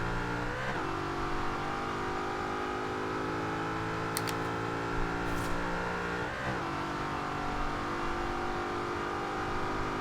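A 2010 Noble M600 in Forza Horizon 2 pulls away from a standing start. The engine note climbs steadily, and two brief gear-change dips break the drone of the exhaust.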